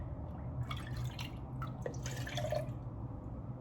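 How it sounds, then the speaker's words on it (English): Warm milk poured from an Instant Pot into a jar gives a soft, trickling, dripping splash over a low background hum, fairly faint and close. "I'm gonna take some of the warm milk out of my Instant Pot."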